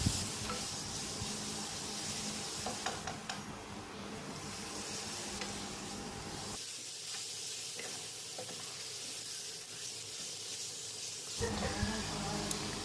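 Pork sizzles as it is stir-fried with red curry paste in a pan, a continuous close hiss with scraping stirs, dipping quieter briefly midway before the frying noise returns.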